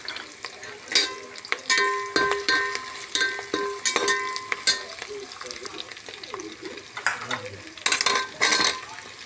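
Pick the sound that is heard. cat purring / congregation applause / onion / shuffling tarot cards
onion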